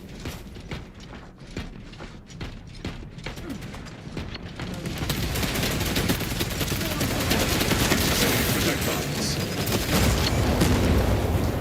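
Gunfire in a Space Marine 2 PvP match, quick ticking, ratcheting shots at first that build into a loud, dense, continuous barrage of heavy fire filling the second half.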